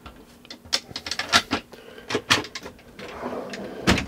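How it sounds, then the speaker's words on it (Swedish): Cutlery drawers in a Malibu Carthago 460 motorhome being handled, a string of sharp clicks, clacks and rattling knocks from the drawer mechanisms, close by and irregular, ending with a brief sliding rumble. "Lådor, här är besticklådor"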